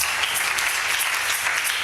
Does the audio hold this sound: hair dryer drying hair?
no